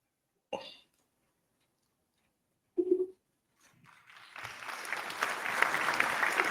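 Audience at a TED talk about a robot butler, a couple of isolated coughs and throat sounds in a quiet room, then applause gradually swelling into steady, building clapping.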